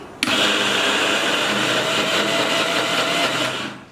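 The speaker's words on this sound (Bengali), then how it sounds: "এখন ঢাকনা দিয়ে ঢেকে তারপর আমি ব্লেন্ডারটা অন করে দিচ্ছি।" A kitchen blender grinds lentils, starting with a sharp click and running as a loud, steady whir for a few seconds before winding down.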